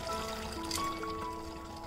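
Water from a cup is poured into a pot of mutton cooking over a medium-low flame. It makes a soft, quiet trickle and splash against a background of steady tonal hum and kitchen noise.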